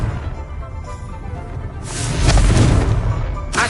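A blasting-spell explosion in the Hogwarts Legacy video game: a quiet hissing lead-in, then a loud booming burst with a crashing tail, followed by a short sharp pop at the end.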